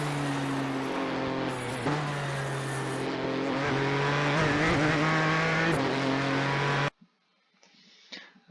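A Ford GTE race car in the iRacing video game at Imola, its engine droning loud and steady with gear changes and rising revs, then cutting away abruptly to near silence.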